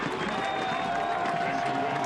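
Stadium crowd applauding players leaving the field at a Monterey Bay F.C. versus New Mexico United football match, a steady broad wash of clapping and crowd noise with faint voices mixed in.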